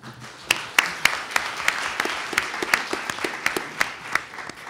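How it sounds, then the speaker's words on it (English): An audience at a journalism school panel claps to welcome a speaker, a dense, steady applause with sharp individual claps standing out, moderately loud and sustained throughout. "Please give her a big round of applause."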